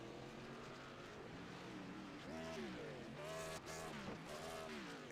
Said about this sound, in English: you can hear him revving that thing, just trying to get it to kick back over